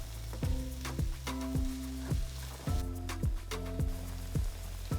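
Onions fry in olive oil in a frying pan over medium heat, a soft steady sizzle heard beneath louder rhythmic knocks and descending thumps of a background beat.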